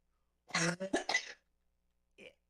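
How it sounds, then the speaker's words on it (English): A short burst of coughing, a few rough hacks close together, followed after a pause by one faint cough. "You can cough it all you want"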